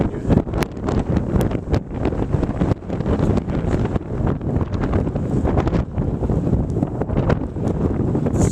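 Strong wind from a Buffalo blizzard buffets the microphone outdoors in loud, steady gusts with rough rumbling and rustling bursts throughout.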